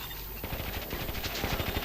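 Rapid automatic gunfire in the strategy video game Warzone 2100, a dense burst of overlapping shots rattling on for nearly two seconds.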